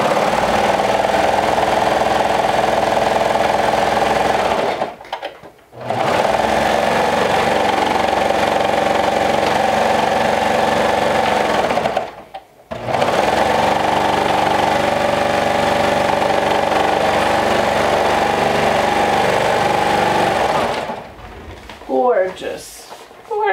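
A sewing machine stitches a seam with a 1/4 inch allowance, running in three long steady motor bursts with short pauses between, close and fairly loud.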